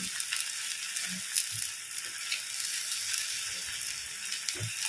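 Spinach paratha frying on a pan over a slow-medium gas flame gives a soft, continuous sizzle with faint scattered crackles and small stirring clicks, close by and steady, with no talking.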